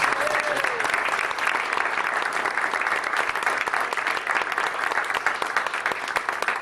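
A steady, loud round of audience applause for speaker Tony Baxter at the 2003 20KLUTS Expo, continuous clapping from a large crowd filling the whole stretch.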